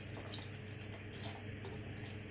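Water being poured into thick Jamaican Julie mango juice in a blender, a quiet trickling pour that runs steadily, close by and faint, ending with a brief knock.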